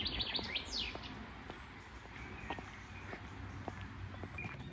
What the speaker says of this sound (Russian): Птицы поют шикарно.